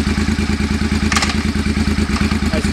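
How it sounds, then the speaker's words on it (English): A 2005 Suzuki Boulevard C50 cruiser idles close by with a loud, steady, lumpy V-twin throb, while a short clunk partway through marks the shift into first gear. "That's first gear right there."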